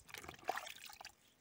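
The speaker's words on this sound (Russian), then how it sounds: "И прямо льешь, вода уходит," On parched, drought-dry ground, water is poured out and soaks away with a short, faint trickling and dribbling, heard alone.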